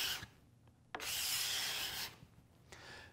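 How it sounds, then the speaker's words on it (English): A card scraper drags across the surface of a plywood panel, making a soft, close, breathy rasp in two long strokes with a few light taps in between, fairly faint. "using a card scraper and just dragging it"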